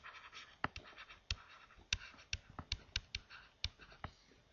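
Pen or pencil scratches across paper as an equation is written by hand, in a run of short, crisp strokes and taps. The sounds are close and quiet, in an uneven rhythm.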